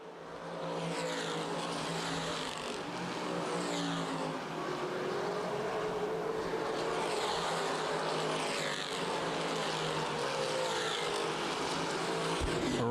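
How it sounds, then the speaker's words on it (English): Race cars circling the oval at Winchester Speedway during a 2012 preliminary event, a continuous loud roar of several engines with rising and falling pitch as the cars pass, sustained throughout with no gaps. "Kirby wrapping up a championship, now trying to claim second. Racing hard with Jason Thompson."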